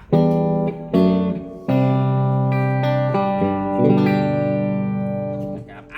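Clean electric guitar with no effects, notes and chords ringing clearly and sustaining, each new strum sharply attacked, then fading under a close amplified tone.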